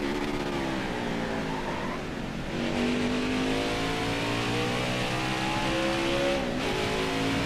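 A race truck engine in the NASCAR Heat 5 racing game accelerates, a loud, steady whine that climbs in pitch as the revs build, with a brief dip as the gear shifts before it keeps pulling.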